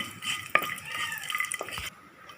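Whole spices—cardamom pods, cloves and star anise—stirred in a hot pan, with a spoon scraping and clinking against the metal in a steady run of close scrapes, one sharper knock, and a faint sizzle underneath.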